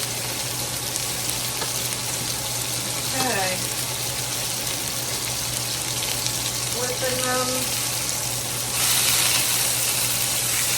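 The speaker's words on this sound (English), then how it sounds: "I'm just wanting to sear them on each side." Salisbury steak patties of ground beef searing in a hot pan, a steady broadband sizzle that runs throughout with a faint low hum beneath and brief clinks partway through, rising slightly louder near the end.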